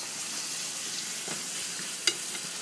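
Shallots frying in a pan, nudged around with a wooden spatula, give a steady, close, moderate sizzle, with a couple of faint scrapes and one sharp tap near the end.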